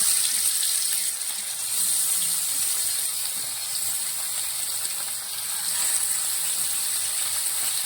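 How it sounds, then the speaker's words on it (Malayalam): A steady, close hiss of hot oil as mackerel fries, a broad even sizzle that swells and dips slightly without pause; no one speaks. "നമുക്കൊന്ന് വറുത്തെടുക്കാം കേട്ടോ എണ്ണ ആയിട്ടുണ്ട്"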